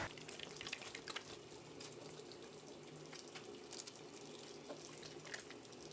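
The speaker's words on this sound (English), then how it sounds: "maybe I will wash my hands again" A tap runs steadily into a sink as hands are washed, a continuous close water rush with faint splashes and no talking.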